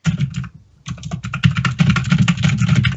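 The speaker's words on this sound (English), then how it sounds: "I have a mechanical keyboard." Rapid clattery keystrokes on a mechanical keyboard, close and loud, with a brief pause near the start before steady continuous typing resumes, no voices.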